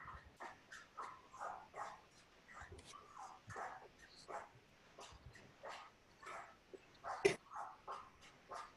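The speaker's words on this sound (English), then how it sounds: "So somebody's dog is having fun." A dog in the background yips, barks and whimpers in a quick, uneven series of short calls over an open microphone during an online city planning commission meeting, fairly faint and distant with no clear talk.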